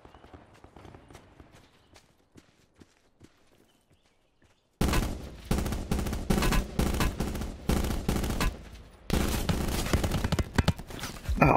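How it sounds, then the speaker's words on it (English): Video game gunfire: faint scattered shots at first, then a sudden loud burst of rapid, dense firing that continues in clustered volleys to the end. "Someone's just taking someone down with a pistol."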